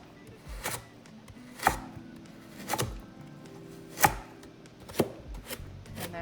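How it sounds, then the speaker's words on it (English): A few spaced knife strokes on a cutting board while slicing a carrot into fine shreds, sharp isolated thuds with quiet stretches between, close and without speech. "As you cut a few slices, and then you push the flattened part down, and then keep slicing."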